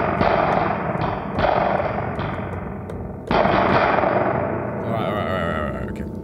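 The Game Changer Audio Light Pedal is struck repeatedly with its effect switched off, each bang giving a loud sharp crack with a metallic spring-like ring that decays, several hits in irregular succession.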